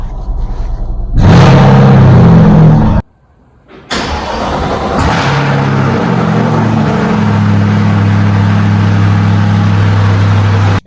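A Corvette Z06 engine cranks and fires with a loud roar on a cold start after sitting about three weeks, cuts briefly, then restarts and settles into a loud, steady high idle.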